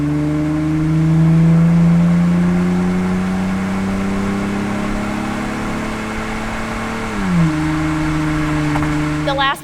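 A 1999-2004 SN95 Mustang V6 with a Flowmaster Super 40 catback exhaust revs up into a loud, sustained drone, holds it, then lets the revs drop sharply toward idle near the end.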